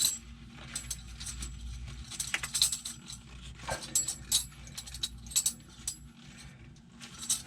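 Tensioner nut being tightened down, a series of close metallic clicks and ratcheting ticks in uneven bursts, no talking.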